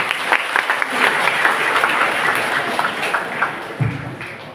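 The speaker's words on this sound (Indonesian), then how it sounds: "Tepuk tangan dong teman-teman" A room full of people at a Catholic gathering claps steadily, a dense, sustained applause with a few louder claps standing out near the end.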